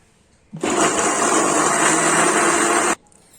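Electric blender grinds raw mango with coriander for a tangy chutney, a loud steady whir starting abruptly, running for about two and a half seconds, then cutting off, with no voices.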